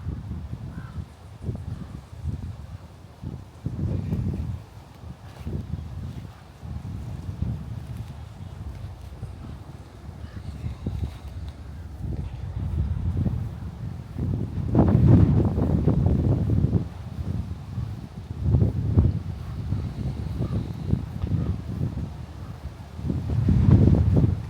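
Wind gusting across an outdoor cemetery, buffeting the microphone in low rumbling surges that swell and fade, with crows cawing at a distance.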